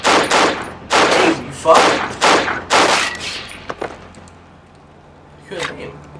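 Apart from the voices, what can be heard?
gunfire from enemies in video game Cry of Fear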